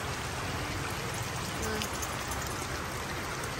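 Floodwater from a rainy-day flood flowing steadily nearby, a continuous broadband rushing wash with no pauses, fairly loud and even throughout.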